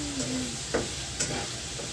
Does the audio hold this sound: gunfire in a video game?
no